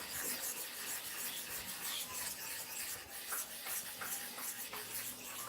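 A barber clipper blade is rubbed back and forth on a flat sharpening sheet, a steady close scraping rasp that keeps going without pause and with no talking.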